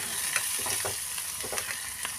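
Onion with ground coriander, cumin and turmeric fries in hot oil in a small pan for a fish charchari, a steady close sizzle with light stirring scrapes.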